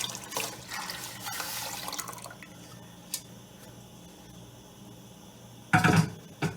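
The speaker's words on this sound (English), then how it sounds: "I'm going to add some more water to my pot." Water poured from a tap into a cooking pot for Rasta-style vegetable soup, a loud rushing burst at the start, then a quiet gap, then a second short splashing pour near the end.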